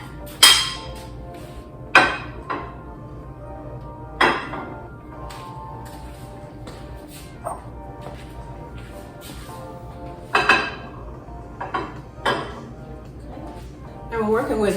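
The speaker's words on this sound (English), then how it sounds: "we're going to go ahead and add in our saucers and our bowls" Saucers and bowls being set down on a table, a series of sharp ceramic clinks and clatters spaced irregularly over a quiet room, some close and ringing, others softer, with a voice talking at times.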